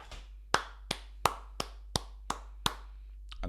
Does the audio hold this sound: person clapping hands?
yes